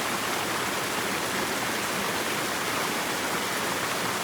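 A rushing waterfall pours steadily, its dense broadband roar constant and close throughout with no voices over it.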